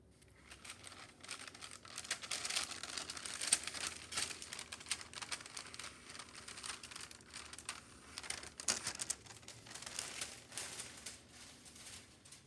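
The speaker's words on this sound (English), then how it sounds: "before I carefully remove the parchment paper." Parchment paper slowly peeled away from freshly melted and cooled perler beads, a soft crinkling and crackling that goes on for several seconds, quiet and close.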